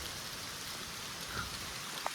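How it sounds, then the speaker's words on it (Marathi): First monsoon rain of the season falling in the Konkan countryside, a steady dense hiss of drops on surfaces with a few sharper individual splats, continuous and moderately loud throughout. "आज आपल्या कोकणामध्ये पहिला पाऊस पडतोय"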